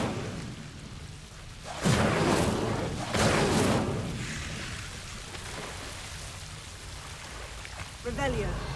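Incendio fire spell cast in Hogwarts Legacy: two loud whooshing bursts of flame about a second apart over a steady game ambience, with a fainter flicker near the end.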